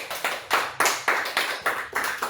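A church congregation claps hands together in a steady rhythm, about nine sharp, even claps over two seconds, loud and close with no talk.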